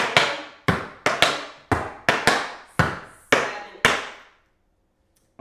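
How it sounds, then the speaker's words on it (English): Tap dance steps in a beginner routine to Singin' in the Rain: about ten crisp, loud, close taps in a swinging rhythm, ending in a flurry of a ball change, then near silence. "So it's flap, heel, flap, heel, flap, heel, ball change."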